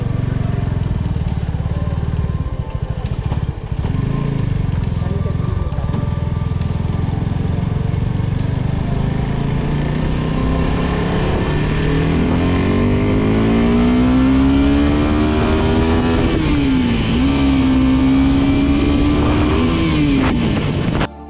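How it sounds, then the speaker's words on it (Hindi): Suzuki Gixxer SF250 motorcycle on a test ride, its engine droning steadily and close, then revving up and climbing in pitch through several rising and falling gear pulls toward the end. "तो this guys are offering test rides for Gixxer SF250."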